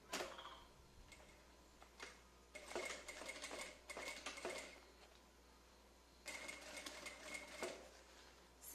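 A sewing machine with a presser foot stitches fabric along a zipper seam, running in short whirring bursts with pauses between them, faint and close.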